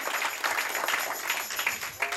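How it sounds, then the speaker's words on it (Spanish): A church congregation at a vigil service claps in a steady, moderately loud round of applause, a dense wash of hand claps with faint voices mixed in. "denle un aplauso al Señor porque Él es bueno"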